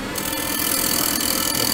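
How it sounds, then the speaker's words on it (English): Roughing gouge cutting a spinning wooden box blank on a lathe, a loud steady close hiss and rumble of the cut running without a break, no talk. "Which I'll use the roughing gouge"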